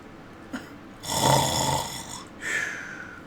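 A sleeping man snores in two long, rasping inhalations separated by a short pause, close and moderately loud with no talk over it.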